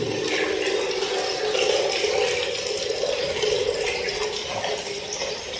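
Rainwater runs steadily through a large filtered pipe into a storage tank during heavy rain, making a continuous rushing, gurgling flow that stays fairly loud and even throughout, with no voices.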